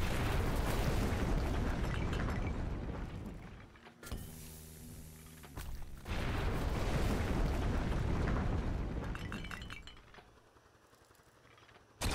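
In Black Skylands a wall is blasted apart with a long, loud roaring burst of rubble and debris, then a short lull, then a second sustained roar that fades into quieter rumble before a last sudden hit.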